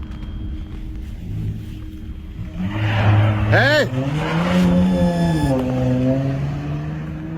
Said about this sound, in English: And so he goes outside and this car just like takes off.